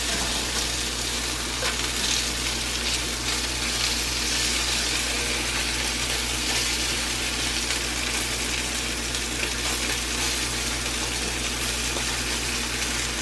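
Broccoli beef frying in a cast iron pan, giving a steady, loud, unbroken sizzle with no pauses or talking.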